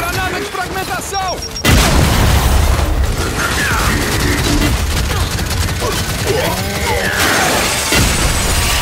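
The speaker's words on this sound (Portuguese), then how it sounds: "Granada de fragmentação!" A frag grenade explodes in the Gears 5 Hivebusters campaign, a sudden loud boom followed by a sustained roaring rumble with mechanical clatter, heavy gunfire and shouted voices over it.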